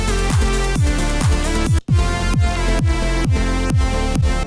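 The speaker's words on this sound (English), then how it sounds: "That was the sound of the bass not knowing what was going on as I switched clips." Roland MC-101 groovebox track with a pounding repetitive bass line and steady beat, a brief dropout near the middle where the bass stutters and glitches as clips switch, then the loud pattern resumes.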